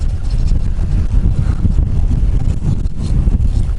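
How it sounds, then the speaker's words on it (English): Strong headwind buffets the microphone as cyclists ride straight into it, a loud, constant low roar and rumble with no break. "Once again, straight into the headwind."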